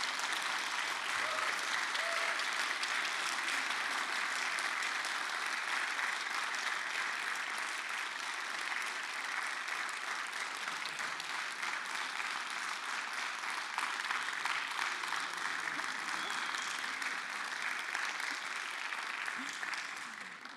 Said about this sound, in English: I think it's relevant that we give you a warm applause at the start of this meeting.